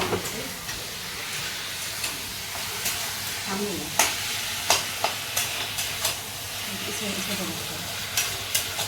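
Mango chutney cooking in a pan as sugar is added, giving a steady sizzling hiss with soft stirring scrapes and light clinks of the spoon against the pan throughout.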